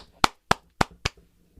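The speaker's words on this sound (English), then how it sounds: "Let's clap it up for them." Four slow, separate hand claps land in an even rhythm, crisp and close, with quiet between them.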